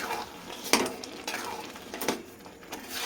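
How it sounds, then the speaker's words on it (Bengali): A pan of boiling sugar and chhana with coconut is stirred for sandesh, giving soft scrapes and a few light metallic clinks of the spoon against the pan at uneven intervals, fairly quiet and close. "এবার এইভাবে এটা ফুটতে থাকবে, আমি এইভাবে ঠিক নাড়াচাড়া করে যাব।"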